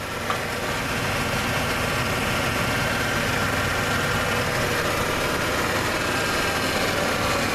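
A Ford F-150 pickup, just back from an oil change, idles steadily after being started. The engine gives a continuous, even rumble at constant loudness throughout, with no voices.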